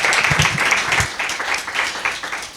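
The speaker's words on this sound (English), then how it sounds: "So let's have a warm welcome, a round of applause for Sheila Kohler." An audience applauds to welcome author Sheila Kohler to an evening talk on writing characters from family, a dense, steady wash of many hands clapping at once that holds fairly loud for the whole stretch with no voices over it.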